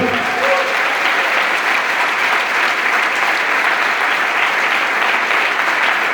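A church congregation applauding together, a loud, dense and steady wash of clapping that fills the whole stretch without pause.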